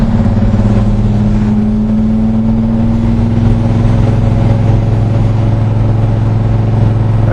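A 1966 Chevrolet Chevelle SS muscle car drives along, its engine a steady, loud, close rumble with a deep low hum throughout and no talk.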